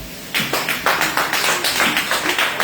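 Church congregation clapping in rhythm to acclaim the Lord during a worship service, a steady run of repeated claps starting after a brief pause, loud and close.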